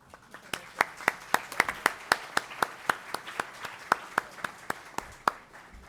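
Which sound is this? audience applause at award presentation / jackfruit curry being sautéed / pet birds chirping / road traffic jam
audience applause at award presentation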